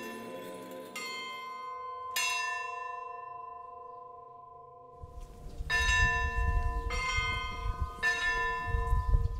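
Armenian church bells ring during a solemn clergy procession escorting the Catholicos: a few widely spaced strikes with long ringing decay, then quicker repeated peals over a low rumble of crowd noise.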